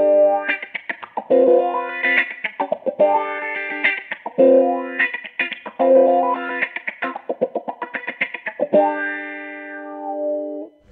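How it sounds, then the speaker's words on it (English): Electric guitar through a Sonuus Wahoo filter pedal set to a crybaby-style wah, with chords and riffs sweeping in a rhythmic, vocal-like wah, loud and upfront with no talking. "This is like a crybaby style wah."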